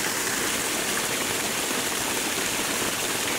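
A waterfall pours around a rock in the foreground, a steady, dense, close rushing roar of flowing and splashing water with no break and no voices.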